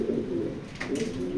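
A male racing pigeon coos nearby in low, rolling phrases, a soft lull in the middle before the throaty murmur resumes.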